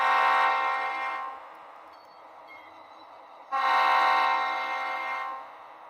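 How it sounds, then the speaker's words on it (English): Two long sustained blasts from the horn of an Athearn Genesis GP38-2 model locomotive, a steady harmonic chord sounding for about a second, then falling quiet before a second blast of nearly two seconds. "It's a different style horn than the 1946."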